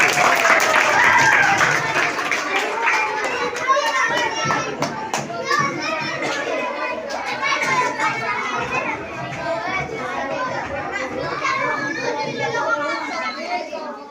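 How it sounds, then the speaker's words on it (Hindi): Children's clapping welcomes a member of parliament at a school event in Rohtas, with excited young voices chattering over the applause throughout. "चलो जोरदार ताली से स्वागत कीजिए रोहतास के सांसद"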